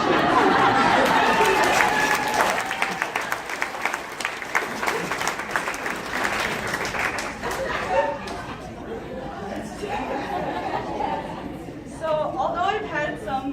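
An audience applauds loudly at a 2017 Junior Achievement event. The clapping is dense and sustained at first, then thins out into scattered claps and crowd chatter.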